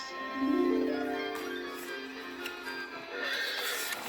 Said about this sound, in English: Very carefully, Aladdin, Jasmine, and Iago mounted the enchanted horse